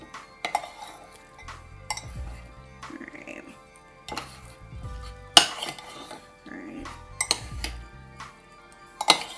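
Beans being mashed and stirred in a bowl for seven layer dip cups, with sharp utensil clanks and soft squishy pressing at close range, repeated in several bursts while a person talks.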